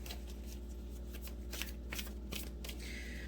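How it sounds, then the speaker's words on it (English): A tarot card deck is shuffled by hand close up, a quick series of crisp riffling flutters and soft slaps over a quiet room hum. "I'm going to shuffle again because that was a lot"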